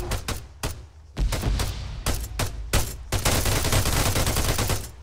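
Rapid gunfire in the military shooter game Arma 3: several sharp single shots early, then dense sustained automatic fire and fusillades filling the last two seconds, loud and close.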